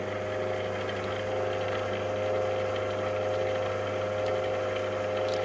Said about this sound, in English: With that tightened up now, I should be able to start the lathe.